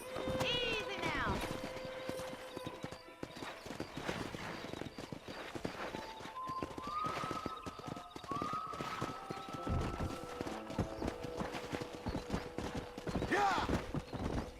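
Horses in Red Dead Redemption, with a wild herd clip-clopping along and whinnying in a rising call near the start, hooves steady throughout while a person speaks over them.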